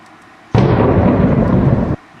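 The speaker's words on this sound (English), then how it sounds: "the classic thunderstorm" A thunderstorm sound effect sample used in a music track: one loud, dense rumbling thunder burst starting abruptly and holding for about a second and a half before cutting off cleanly, with no other sound.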